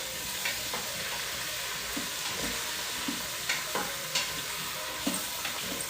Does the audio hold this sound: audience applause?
no